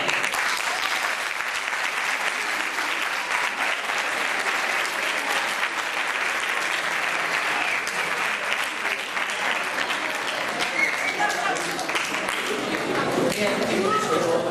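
Sustained audience applause for José Belmonte at a tribute event in Tomelloso honouring Francisco García Pavón, a dense, steady wash of clapping from a large crowd that holds for the full length.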